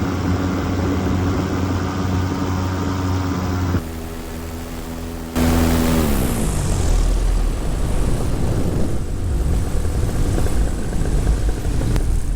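A paramotor flies past, its propeller engine droning steadily and loudly, then dipping briefly before a sweeping Doppler-like shift as it passes overhead and fades into broadband engine roar and wind.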